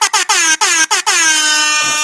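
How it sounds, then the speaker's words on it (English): Air horn sounding close and very loud in a quick series of short blasts, then one longer held honk that cuts off. "Let me get my air horns, man."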